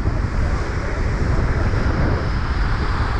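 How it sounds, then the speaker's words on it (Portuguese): A waterfall in Yellowstone National Park gives a dense, steady broadband rush of falling water, loud and continuous with no breaks. "estamos aqui para aproveitar uma cachoeira"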